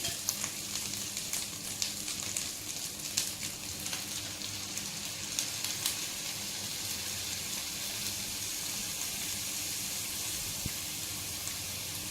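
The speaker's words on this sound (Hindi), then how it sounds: "तो अच्छी तरह से भूनें।" Yogurt masala frying in a pan with fried meat, a continuous dense sizzle with crackling pops, steady and close with no talking.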